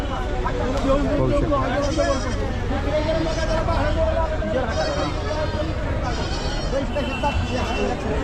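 Goats bleat repeatedly, several overlapping calls near and far, over a busy crowd murmur with people chatting and bargaining at a large goat and sheep market in Chakan, Maharashtra.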